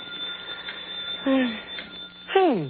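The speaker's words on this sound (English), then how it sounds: "That's a phone." A telephone rings in an old-time radio detective drama, heard as two short ring bursts over a quiet background, with one brief spoken word.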